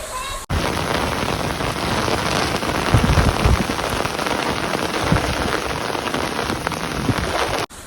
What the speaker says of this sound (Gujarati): ભાઈ 1 કલાક થયા વરસાદ પડે છે